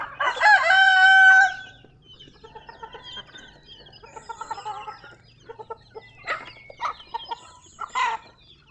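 A rooster crows loudly and close at the start, followed by a flock of chickens clucking in scattered, uneven bursts at moderate volume.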